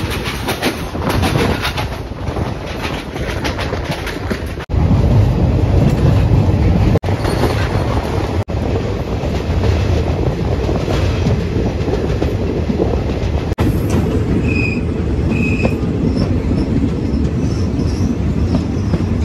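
Tirupathi Express passenger train running on rails, a loud steady rumble of wheels and carriages with rhythmic clickety-clack throughout, briefly sharpening midway, with faint high squeals near the end.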